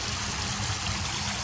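Steady trickling water in a Japanese garden, a continuous close babble of a small stream or fountain running alone without pause.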